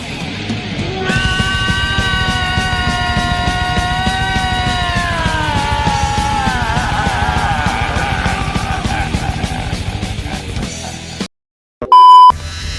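A male cicada calls in a loud, continuous buzzing drone, a dense rapid pulsing trill with a steady high whine that gradually slides lower partway through.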